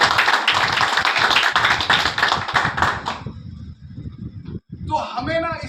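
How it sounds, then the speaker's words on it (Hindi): Audience clapping at a direct selling talk, dense broadband bursts of applause for about three seconds, then fading into quieter scattered sounds and brief voices. "तालियां हो जाए सर के लिए।"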